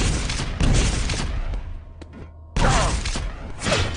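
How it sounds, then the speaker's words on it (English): Quake rocket jump in a competitive match: heavy rocket blasts and thuds, loud and close, a dense burst, a brief near-silent gap, then another loud run of explosive impacts with no talking. "Nice rocket jump there by Cypher."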